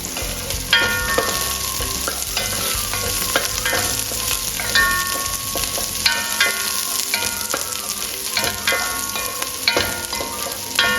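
Onions and crushed garlic fry in a pan for pork caldereta, a dense, steady sizzle close up, broken by repeated scrapes and clacks of stirring, with no one speaking.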